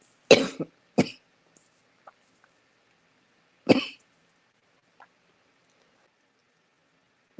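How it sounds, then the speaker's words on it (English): Three loud coughs, two close together near the start and one more a few seconds later, with quiet pauses and small faint sounds between. "I got the huge coughs and had to pause."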